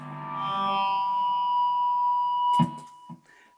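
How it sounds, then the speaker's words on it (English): Electric guitar played through a distortion pedal on a Quad Cortex unit in a room, ringing out as a loud, sustained distorted tone with feedback that holds steady for over two seconds before cutting off into brief noisy pick clicks. "I can turn on a distortion pedal with the quad cortex here"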